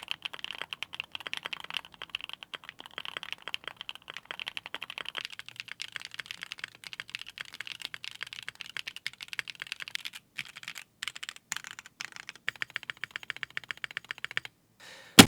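Typing on a Luminkey 80 mechanical keyboard fitted with Gateron Sylva switches: fast, continuous close-up keystrokes with a soft, muted bottom-out clack, steady and alone with no talk.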